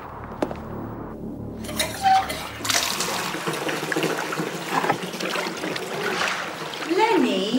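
Hot water runs steadily into a bathtub, a continuous rushing pour with trickling and splashing, close and fairly loud, while voices talk over it.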